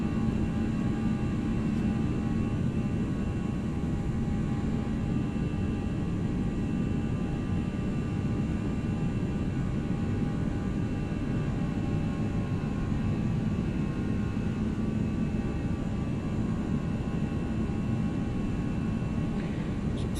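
An Airbus A320 is climbing toward cruise altitude, and a steady broadband rumble and engine drone fill the cabin without a break, constant in level throughout.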